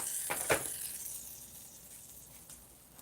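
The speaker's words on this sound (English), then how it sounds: "There's a little bit of sizzling." Biscuits sizzle in butter with a faint, steady hiss and a couple of soft crackles early on.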